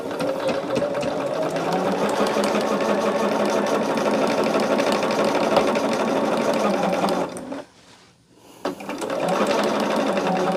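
A sewing machine stitches quilted bag pieces with a loud, continuous whirring run that stops briefly near the end and then starts up again.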